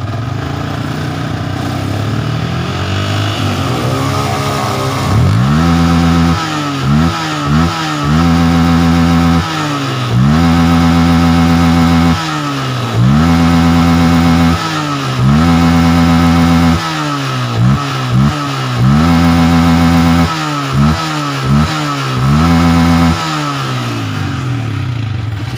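Cold motorcycle engine with a carburetor, idling steadily before being blipped repeatedly, each rev rising and falling in quick bursts over a constant idle, loud and close.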